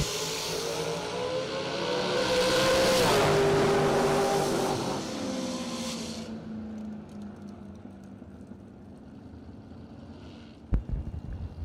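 Dragsters launch together down a drag strip at a bracket racing event, a loud roaring engine blast that swells and fades over several seconds, leaving quieter ambient noise and a brief thump near the end.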